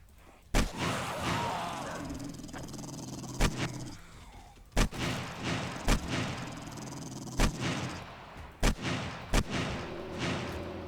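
An AK rifle fires in the survival game 7 Days to Die, about a dozen loud single shots at irregular intervals over a rumbling game background, with barking zombie dogs and brief talk between players.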